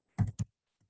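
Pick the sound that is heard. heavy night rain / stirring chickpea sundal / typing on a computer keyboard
typing on a computer keyboard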